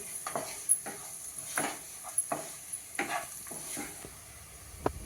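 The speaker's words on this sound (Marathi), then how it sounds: "हिरव्या मिरचीचा ठेचा सगळं छान परतून घेऊया म्हणजे त्याचा कच्चेपणा जाईल" Green chili paste with ginger-garlic paste being stirred and sautéed in a pan for potato curry: irregular scraping strokes of a spoon against the pan over a soft, continuous sizzle, fairly quiet and without talk.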